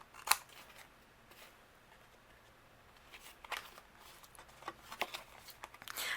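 Scissors trimming the left and right edges of card stock for a handmade greeting card, quiet close snips and paper rustles scattered across a soft background.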